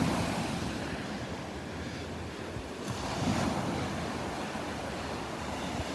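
Ocean surf washing onto the beach at Delnor-Wiggins on a morning walk, a steady broadband rush with a slightly louder wave surge midway, mixed with wind buffeting the microphone.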